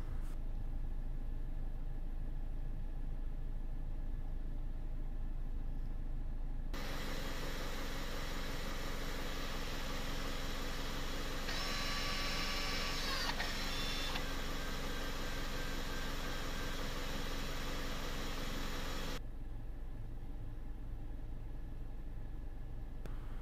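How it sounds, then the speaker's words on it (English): A Jaguar's electronic parking brake motor closes and clamps the pads, a steady mechanical whir that starts abruptly and runs for about twelve seconds before cutting off, with a brief higher whine partway through, heard close against quiet background hum. "we can see now the process taking place of the electronic parking brake closing up and"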